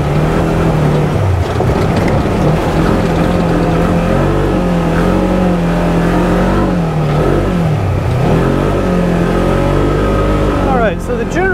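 A 2022 Polaris General XP 1000 Trailhead Edition side-by-side accelerating in high gear, its engine droning loud and close with rising and falling pitch as it picks up speed.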